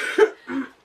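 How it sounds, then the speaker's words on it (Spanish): Two quick, close coughs in succession, the first sharper and the second softer and throatier. "Disculpen la tos."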